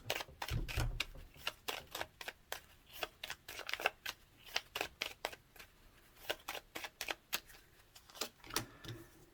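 Lenormand cards are shuffled close by, with a long run of crisp, irregular riffles, snaps and taps.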